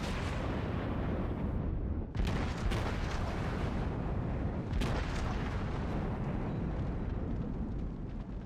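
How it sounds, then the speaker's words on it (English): Heavy battleship guns on a Fuso fire ranging shots in a naval combat game: a dense, loud, rumbling barrage with sharp booming bursts standing out near the start and middle. "Ranging shot. Shots look good"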